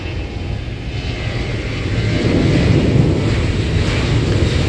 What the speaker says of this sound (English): Here comes the flight, the Vietjet Air flight from Da Nang.